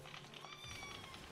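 Pet cat named Arthas giving a faint, short meow indoors, quiet and close, with soft background noise.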